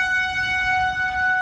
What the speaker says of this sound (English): You can hear the warning sirens near Dayton, Ohio.